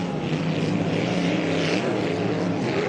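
Hydroplane racing boats run on the Madison Regatta race course at the APBA Gold Cup, giving a steady, loud, broadband engine roar that holds at one level throughout.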